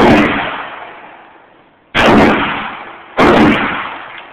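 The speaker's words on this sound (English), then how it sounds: "Now that's the gun right there." Three heavy gunshots boom at a gun range, each a sharp loud blast followed by a long rolling echo that fades away, spaced about two seconds and then a second and a half apart.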